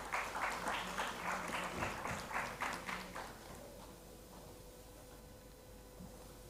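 Applause at a plenary session of a conference as a speaker is welcomed onto the stage: a few seconds of fairly faint, even clapping that fades into a low room hum.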